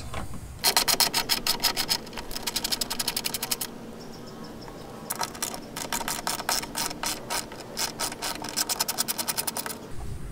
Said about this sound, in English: We can use our 10mm again, remove these bolts.